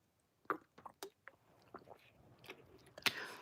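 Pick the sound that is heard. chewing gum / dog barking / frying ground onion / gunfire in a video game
chewing gum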